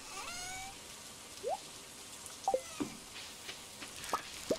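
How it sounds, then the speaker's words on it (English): In the video game Stardew Valley, a rainstorm makes a soft, steady hiss of falling rain, with a few sparse game blips and chirps popping up over it. "It's not just raining, it's storming."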